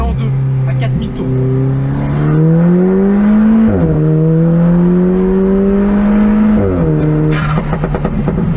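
An Alfa Romeo 4C with a 320 hp turbo engine accelerating hard in second gear, its loud engine note climbing steadily in pitch through two long pulls, with a brief dip between them, as someone talks over it.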